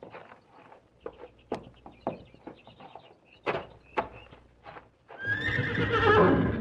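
A horse in a corral gives a loud, drawn-out whinny at the end, after a stretch of scattered hoof thuds and clip-clops on the ground.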